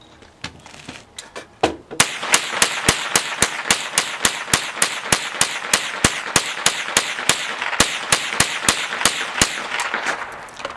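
A magazine is emptied at an outdoor shooting range: about thirty loud, rapid gunshots fired in quick succession after a few scattered earlier shots, each crack sharp and close.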